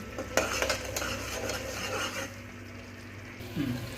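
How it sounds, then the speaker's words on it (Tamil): Spoon stirring mushroom biryani masala in a cooking pot, scraping and clinking strokes in quick succession before easing off, with soft sizzling underneath, close up and fairly quiet. "போட்டு கிண்டும் போதே நல்லா கிண்டி விடணும்"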